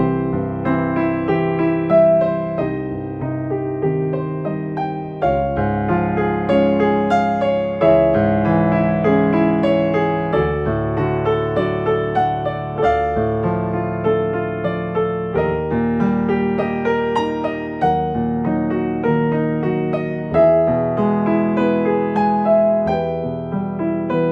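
Full piano chords move step by step in a steady chromatic progression, each block chord sustained and ringing before the next, played alone with no voices.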